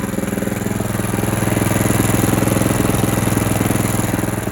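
DTZ 470B walk-behind tractor engine running in third gear, a loud, steady, rapidly pulsing single-cylinder putter close by, with no talking.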